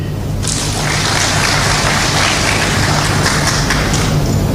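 An audience at an official ceremony applauds the President of Burkina Faso, loud continuous clapping mixed with a low rumble that holds steady for several seconds.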